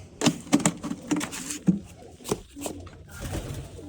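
Pet pigeons coo softly near a water dish, with intermittent taps and knocks and low background murmur, the calls close but not loud.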